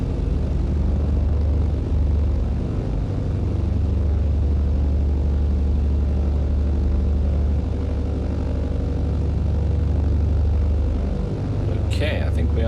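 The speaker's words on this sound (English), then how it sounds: "Love the sound of this aircraft." A propeller aircraft engine in Microsoft Flight Simulator 2020 drones with a steady, loud low rumble throughout, unchanging in pitch, with a brief click or crackle near the end.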